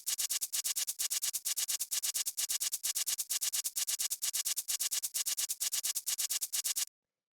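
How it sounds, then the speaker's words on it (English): Two layered electronic shaker loops, one auto-panned, producing a fast steady stream of crisp, bright rhythmic shakes that repeat evenly for several seconds, then stop abruptly, with no voices. "The next thing we have here are these two sets of shakers"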